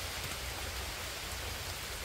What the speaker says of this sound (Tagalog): Nalakas na po ang ulan.